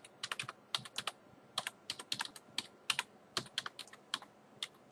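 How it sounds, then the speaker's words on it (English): A password is typed on a computer keyboard as a quick, uneven run of crisp key clicks, close and fairly quiet, with short pauses between bursts. "Typing in my password"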